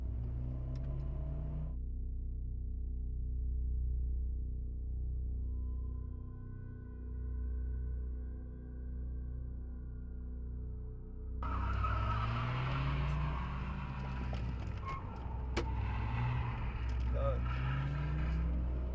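A car on the road swinging through a quick U-turn, its low engine rumble droning steadily before a burst of louder tire and road noise takes over near the end.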